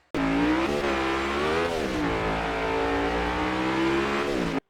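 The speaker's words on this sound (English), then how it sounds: "experience the thrill of driving a NASCAR stock car" A NASCAR stock car, a 3,400-pound racer built for over 180 mph, revs hard and roars continuously at close range, its engine pitch rising and shifting across the run with no talk over it.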